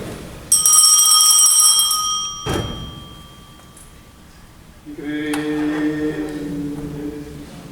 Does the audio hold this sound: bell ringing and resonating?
yes